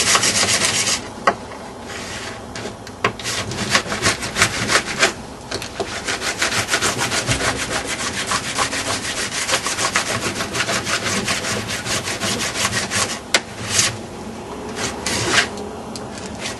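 A plastic scraper rasps wax off a snowboard base in repeated firm strokes, a loud gritty scraping that runs almost without pause, with a few brief breaks between passes.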